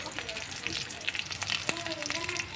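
Green chilies and curry leaves sauté in a pan while cooking a Tamil snake gourd and chana dal kootu, a moderate steady sizzle with scattered crackles and a few faint clinks, no voice.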